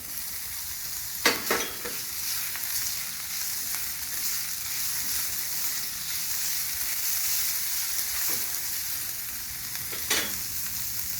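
Carrots and tomatoes hit a hot frying pan and sizzle loudly and steadily up close, with a few sharp scraping stir clicks.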